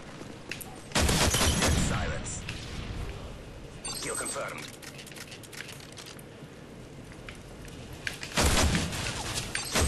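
Gunfire in a shooter video game arrives as loud bursts of automatic fire at the start and end, with scattered crackling shots in between, under a player's excited talk.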